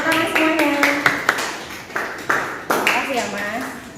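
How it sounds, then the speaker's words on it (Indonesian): A small classroom group at a micro-teaching session claps in a few scattered, uneven bursts, sharp close slaps that break up a teacher's ongoing speech. "Terima kasih, tepuk tangan semuanya"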